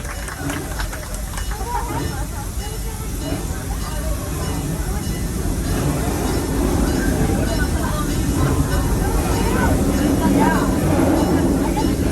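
An open-air Serengeti tour train at Busch Gardens in Tampa rolls along with a steady, continuous rumble and clatter that swells slightly as the ride goes on.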